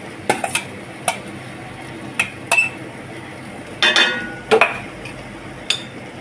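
A spoon clinks and scrapes against a pot as cooked rice is mixed with raw mango masala, a few scattered metallic knocks and stirring scrapes over a quiet kitchen background.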